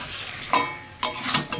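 A spatula scrapes and stirs chicken frying in a pan, in three short bursts with a faint background hum and no voices.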